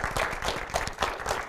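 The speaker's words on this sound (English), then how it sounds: "Can we be a loud applause to our innovation team?" Audience at a corporate career event applauds the innovation team after a new real estate app is unveiled, a short burst of clapping with rhythmic bursts from a modest crowd, fairly near and moderately loud.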